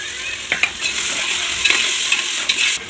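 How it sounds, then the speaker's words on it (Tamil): Tomatoes sauté in a pan for biryani, giving a steady close hiss of frying broken by a few sharp scrapes and taps of stirring; no one speaks. "தக்காளி நல்லா வதங்குறது"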